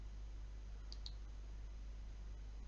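Two quick, faint computer mouse clicks, close together against a steady low electrical hum.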